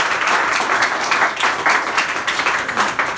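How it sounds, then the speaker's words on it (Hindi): A crowd at a talk claps in a dense, sustained round, the applause pulsing slightly in waves throughout. "तुम्हारे समझ में आ रही है तो ताली बजाओ।"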